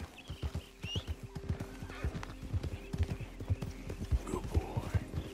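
A horse's hooves clip-clop in a steady rhythm while it whinnies, nearby and fairly quiet, in the video game Red Dead Redemption 2.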